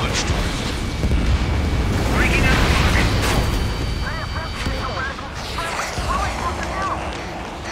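A missile launch and explosion in the combat flight game Ace Combat 7, a loud rumbling roar and boom with jet noise, overlaid by a radio voice speaking.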